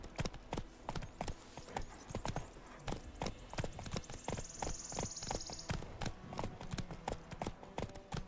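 Roach the horse clip-clops in The Witcher 3, hooves striking in a brisk, even rhythm at close range, loud and prominent over a faint ambient bed.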